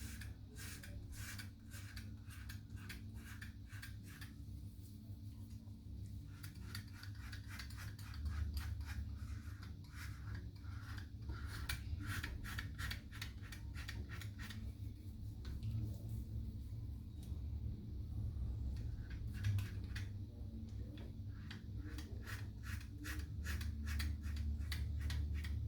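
Razor shaving a bald head to a smooth finish, a quiet, close, rapid run of fine scraping strokes in repeated bursts over a low background hum, with no talking.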